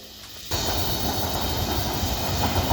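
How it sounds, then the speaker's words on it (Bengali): A train rushes past near Lawachara National Park in Sreemangal, the roar arriving abruptly and staying loud and steady with a rumbling, rattling wash of wheels and cars. "ট্রেনটা আসছিল, বাট আমরা ধরতে পারলাম না"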